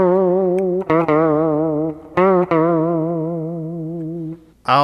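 Electric guitar on the bridge pickup with slight gain and vibrato, playing a trebly verse part; a few long sustained wavering notes ring out alone, loud and close.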